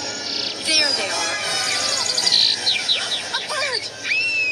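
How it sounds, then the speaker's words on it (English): Birds in an animated Pixar-style film chirp and tweet in a quick series of bright, rising and falling calls, close and lively, with some voice activity mixed beneath. "A bird!"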